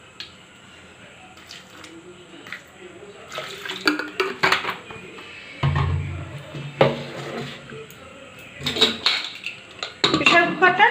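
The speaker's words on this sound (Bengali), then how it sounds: "প্রেসার কুকারটা ঢাকনা দিয়ে বন্ধ করে দেব।" Metal clattering and clanks as a pressure cooker holding makhana and a little water has its lid fitted and closed, with intermittent knocks of varying loudness and some splashy handling noise.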